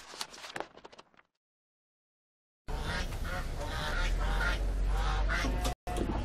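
Geese on a farm honking in a loud, busy burst of overlapping calls, after a short stretch of quieter noise and a silent gap.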